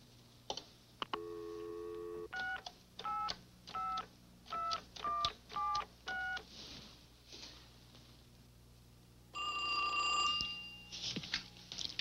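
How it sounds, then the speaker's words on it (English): Touch-tone keypad dialing as a three-way call is set up: a quick string of separate DTMF beeps in bursts, followed by a ringing tone, clear and close with no talk. "Hang on a minute. I'll get Ann on the line."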